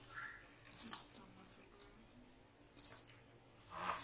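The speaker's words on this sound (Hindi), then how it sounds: "अब हम इसे एक बॉल में ऐसे पानी को निकाल लेंगे" Hot water is drained from soaked soya chunks into a bowl in a kitchen. Faint splashing pours come in short bursts, with quiet gaps and a final trickle near the end.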